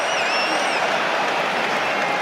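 A rugby stadium crowd at England vs Argentina in the Autumn Nations roars with sustained cheering and applause, a broad continuous wall of noise, with a faint whistle-like tone early on.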